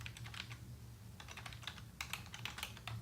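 Quiet, close computer keyboard typing of text, a brisk irregular patter of light key clicks in short clusters against a faint low background hum.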